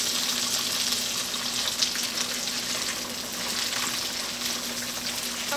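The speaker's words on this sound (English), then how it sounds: "now that all this butter is melted, we're just going to go ahead and layer in this asparagus" Asparagus laid into a pan of melted butter sizzles steadily, a bright, even frying hiss with faint crackles and a low hum beneath, close and continuous throughout.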